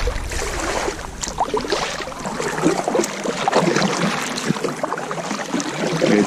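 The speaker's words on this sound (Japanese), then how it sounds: "ちなみにこれは遊覧船ですね。" A sightseeing boat on Ine Bay churns across the water, its engine and wash a steady broadband rush heard from a small boat nearby, with no talking.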